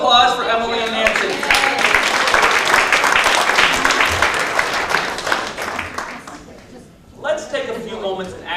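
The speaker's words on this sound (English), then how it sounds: "Round of applause for Emily and Nancy" Sustained audience applause at a mathematics popularization talk, a dense wash of many hands clapping loud and steady for about seven seconds before fading, followed by a speaker's voice resuming.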